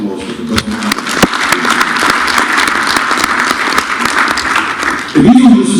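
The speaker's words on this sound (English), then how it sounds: "A round of applause for the government." Audience applause for the government at a Central Bank project flag-off event, a crowd clapping briskly and steadily for several seconds before a louder, closer noise cuts in at the end.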